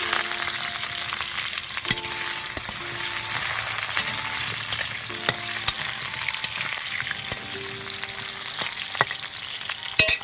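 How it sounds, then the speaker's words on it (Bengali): Potatoes frying in a pan over a clay stove for a chicken dish: a continuous loud sizzle broken by sharp metal clinks and scrapes of a spatula stirring, close up and without talk. "আলুগুলো লাল লাল করে ভেজে নেব"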